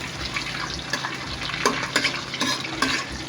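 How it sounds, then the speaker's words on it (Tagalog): Ginger frying in a pan of oil while cooking cabbage, a steady close sizzle with crackling spits and the scrape of stirring throughout, loud and continuous with no talking. "At ngayon, uunahin na po natin ihulog yung ating luya."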